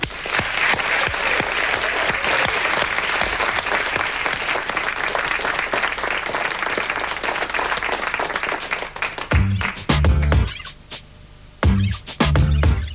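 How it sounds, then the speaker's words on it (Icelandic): Lively studio audience applause welcoming a dancer onto the floor of a television show, dense clapping for about nine seconds, then breaking into scattered, separate claps and pauses. "Heyrðu, og við skulum bara klappa Nancy út á gólfið."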